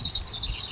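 Weaver birds chirp around their hanging nests: a brief, steady wash of high, thin twittering that holds through the moment, with a faint low rumble beneath and no voices.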